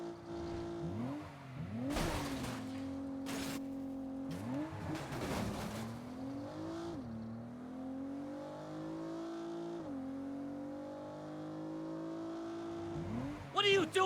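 Car engine revving and tires squealing through a drift in the video game Saints Row, with rising and falling engine pitch sweeping repeatedly and sharp screeches, while voices shout over it.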